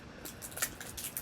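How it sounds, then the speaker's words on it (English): Scissors snipping through clear packing tape while it is cut into strips for reinforcing a Halloween mask, giving several quick, crisp close-up snips across a short moment. "having trouble with my scissors"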